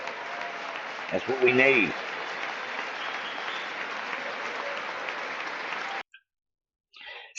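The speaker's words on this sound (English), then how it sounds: "Standing ovation for that one." An audience at a political speech gives a standing ovation, sustained loud applause and cheering with a voice speaking briefly over it before the clapping cuts off abruptly, followed by a short fragment of sound.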